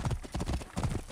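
Horse hooves clip-clop in Assassin's Creed Origins, a quick uneven run of close, dull thuds lasting about a second, fairly quiet and with no talk over it.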